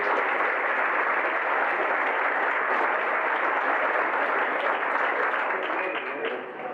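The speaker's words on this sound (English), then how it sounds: "Could you all please give them a big round of applause?" Applause from a crowd at a community recovery breakfast, a dense, steady wash of clapping that holds for several seconds before easing slightly at the end.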